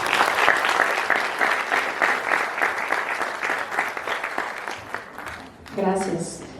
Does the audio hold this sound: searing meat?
no